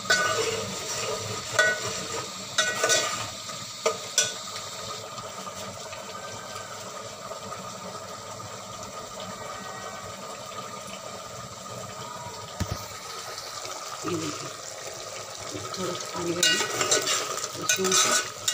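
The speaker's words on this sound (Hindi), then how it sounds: "बस इसको थोड़ी सी भुनाई करेंगे और पानी सूख जाए फिर इसमें चावल डाल देंगे" Masala sizzles and fries in a pot while being stirred for Pakistani tarri rice, a steady hiss of frying with occasional clinks of the spoon against the pot.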